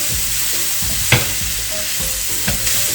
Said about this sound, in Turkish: Şimdi turp otumuzu, haşladığımız turp otunu ekleyeceğim. ve kavurmaya devam edeceğiz.